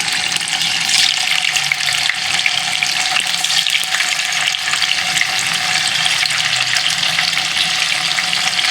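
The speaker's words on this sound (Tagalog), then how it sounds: "So, meron na ditong napainit na mantika, guys. So, ipiprito ko muna itong tokwa." Tofu frying in heated cooking oil in a home kitchen, a steady, dense sizzle and crackle that holds evenly loud and close throughout with no talking.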